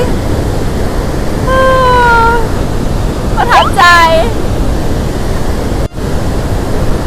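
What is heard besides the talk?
roaring waterfall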